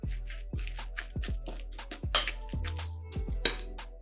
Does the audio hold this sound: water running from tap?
no